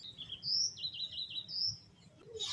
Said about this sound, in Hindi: बर्ड्स और कोयल की आवाज़ आ रही होगी आपको।